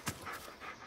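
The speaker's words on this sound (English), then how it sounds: "The dog is insane because he jumped down there too." A dog pants in the Blair Witch video game, with a few quick, soft breaths that sound faint and slightly distant.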